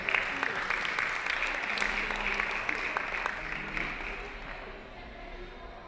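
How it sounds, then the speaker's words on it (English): An audience at a Ramadan festival evening presentation applauds, dense steady clapping that fills the hall and then tapers off toward the end. "Please give her a round of applause."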